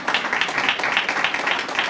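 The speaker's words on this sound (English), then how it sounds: "Give him a round of applause" An audience claps steadily and fairly softly for about two seconds, with a faint voice underneath, in a public library gathering.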